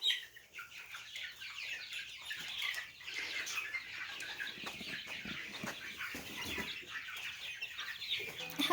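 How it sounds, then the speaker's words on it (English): Young layer hens on a homestead, clucking and peeping softly in a continuous chatter, with some rustling and occasional wing movement, fairly near but quiet. "Hello, little chickens."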